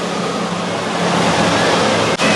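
Waves surging through an indoor wave pool at Great Wolf Lodge water park, a loud continuous wash of churning water filling the hall with a broad roar and no speech.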